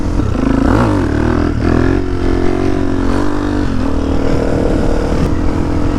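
A dirt bike engine runs loud and close, its buzzy drone rising and falling through several revs over a rough, continuous roar, with no talk.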